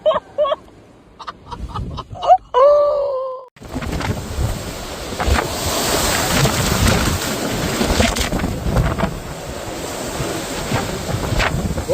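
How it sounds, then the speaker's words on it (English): Strong wind from Storm Goretti in northwestern France, gusting over 200 km/h, roars steadily and loudly into the microphone, buffeting and rushing after a brief stretch of other sounds at the start. "now facing Storm Goretti with wind gusts measured at over 200 kilometers per hour"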